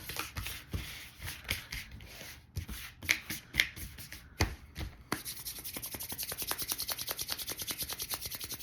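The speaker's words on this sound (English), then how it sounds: "When I rub my hands together, I'm creating friction and energy." Hands rubbing briskly together, close and dry, first in uneven swishes and then settling into fast, regular friction strokes, with no talking.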